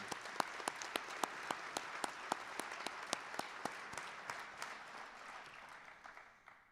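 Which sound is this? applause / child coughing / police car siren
applause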